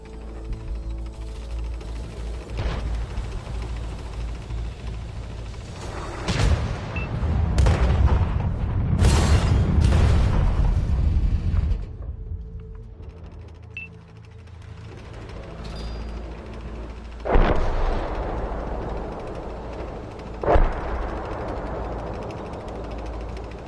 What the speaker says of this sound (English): Artillery's going to dump on him.